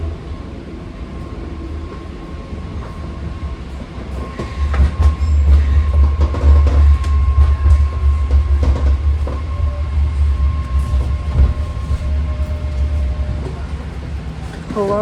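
Eight-car BART Red Line train running between Colma and Millbrae, a steady heavy rumble from inside the car with clacking wheel noise and faint squeals, growing louder midway and holding at a continuous roar.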